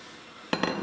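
A quiet hiss, then a sudden clattering splash and rattle as a bowl of squid is dumped into a metal pot of boiling water, with a few clinks.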